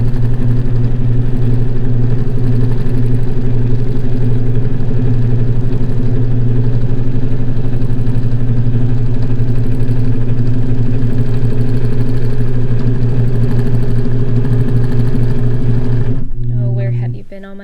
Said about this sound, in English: I'll just continue quilting for a bit.